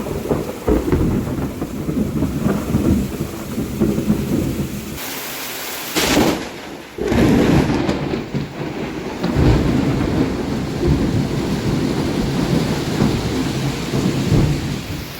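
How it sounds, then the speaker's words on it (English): Thunderstorm with heavy rain during the rainy season in La Fortuna, Costa Rica: steady loud downpour with rumbling thunder throughout, a brief sharp crack near the middle, no voices. "right now there's thundering and lightning"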